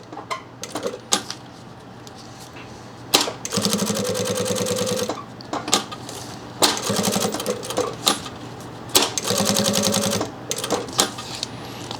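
A sewing machine stitches 3/4-inch webbing into a backpack seam in several rapid, rattling bursts separated by short pauses and handling clicks, close and loud.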